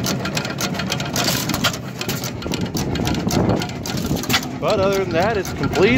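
An antique stationary engine runs at the Coolsprings show display, giving a steady mechanical chugging under continuous nearby talk, with a bird-like chirp late in the clip.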